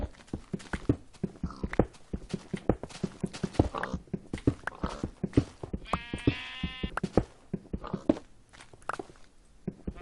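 Bleating sheep in an early alpha of a blocky sandbox game, several close baa calls mixed with a rapid patter of footsteps and bumping sounds, no speech.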